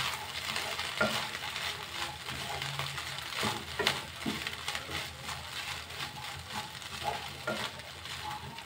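Oats upma being stirred in a hot pan, a soft steady sizzle under scraping and clinking of a spoon against the pan, with a few sharper knocks, no talking.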